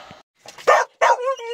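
Dogs bark in a few short, sharp bursts close by, with a whimpering, whining tail on the last one.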